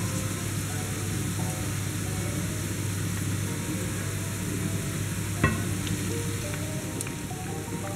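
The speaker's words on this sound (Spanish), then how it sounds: "Mientras que se rehoga la cebolla y el ajo" Onion and garlic sauté in a pan with two small dried cayenne chillies, giving a steady, even sizzle with a low constant hum beneath and a single light clink partway through.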